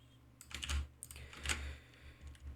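Quiet keystrokes tap on a computer keyboard in short irregular bursts, a few distinct clicks spaced across a couple of seconds with no voices.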